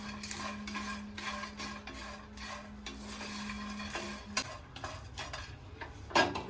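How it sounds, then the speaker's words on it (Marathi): Whole garam masala spices dry roasted and stirred in a pan, faint continuous scraping and rattling of seeds against metal with a steady low hum and a sharper clink near the end. "खमंग वास येईपर्यंत सगळे मसाले भाजून घ्यायचे"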